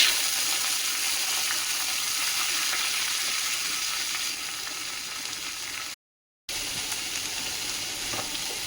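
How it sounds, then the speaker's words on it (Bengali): Cabbage fries with chickpeas in a pan as it is stirred: a loud, steady close sizzle with faint scraping, briefly cut off near the end, and no speech. "তো বাঁধাকপিটা দিয়ে একটু নাড়াচাড়া করে নেবো।"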